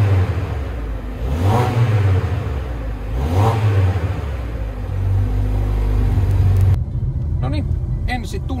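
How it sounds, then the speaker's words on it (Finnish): A 2015 Mazda 6's 2-litre engine revs repeatedly through twin exhausts, deep rumbling swells rising and falling, with someone speaking over it near the end. "kuunnellaan vähän, miltä nämä tuplaputket kuulostaa ja 2-litrainen moottori."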